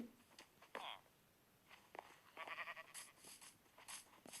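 Minecraft sheep bleat in short separate bursts within a game, quiet and close, spaced irregularly alongside soft clicks and footsteps.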